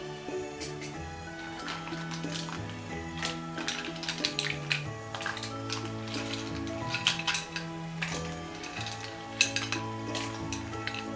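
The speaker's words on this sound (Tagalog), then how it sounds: "Ngayon ilalagay ko na yung mussels at saka yung crumbs." Mussels and breadcrumbs tipped into a frying pan, sizzling steadily while a utensil clinks and scrapes against the metal in irregular taps, close and moderately loud.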